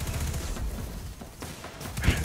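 Video game gunfire, a rapid rattling volley of close shots with thuds, loud and steady across the moment.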